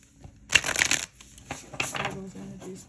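A deck of tarot cards is riffled and shuffled in a few quick bursts, crisp and close, with a voice murmuring faintly at moments.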